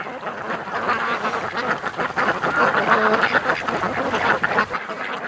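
A flock of panicking ducks on a lake quacks loudly and continuously, frantic overlapping calls that keep up without a break.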